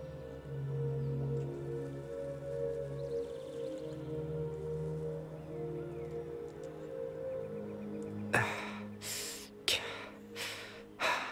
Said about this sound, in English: why are you panting so hard?